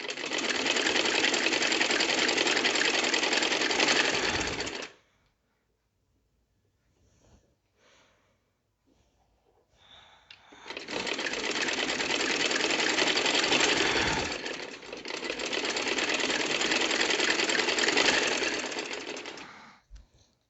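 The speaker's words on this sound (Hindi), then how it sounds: "ये यहाँ से सिलाई करते जाइए।" Sewing machine stitching a strip of fabric onto a kameez hem, running in two steady, close whirring bursts with a pause between them and no talking.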